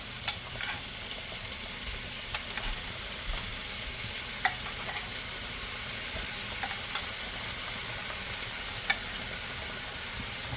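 Cooked vegetables being spooned into a pot for chicken potpie, heard as a few sharp spoon knocks spaced several seconds apart over a steady low hiss, with no talking.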